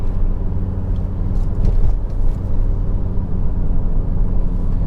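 Steady low engine rumble and road noise from inside a Volvo V70 estate on the move, its gearbox smooth, a continuous even drone with no talking.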